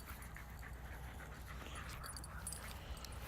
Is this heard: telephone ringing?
no